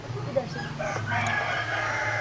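A rooster crows at a small backyard chicken run, a drawn-out call rising partway through over outdoor background noise, moderately close.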